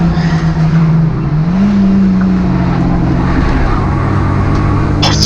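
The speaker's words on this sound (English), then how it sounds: "Down the back straight, hitting the rev limiter, you can hear it bouncing off." Hyundai Coupe race car on a circuit's back straight, engine droning loud and steady at high revs and bouncing off the rev limiter, recorded from onboard.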